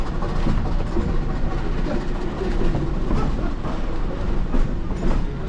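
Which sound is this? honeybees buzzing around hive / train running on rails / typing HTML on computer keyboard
train running on rails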